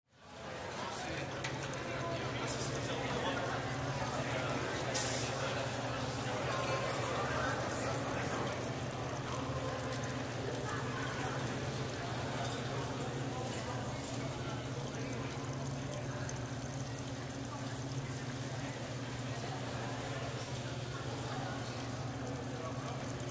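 Water pours steadily out of a pipe in an unprocessed field recording, a continuous dense rushing wash with a low steady hum beneath, close and unchanging for over twenty seconds.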